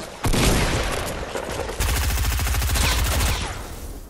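Rapid gunfire in Fortnite, including a heavy sniper, with dense bursts of shots and loud crackling blasts filling the whole stretch, close and continuous.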